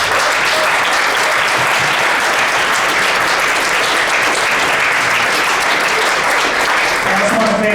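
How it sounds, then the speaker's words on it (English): Loud, sustained applause from a sizable crowd at a Boulder city council candidates forum fills the whole stretch, dense and steady with a faint voice or two underneath. "Let's give them a round of applause."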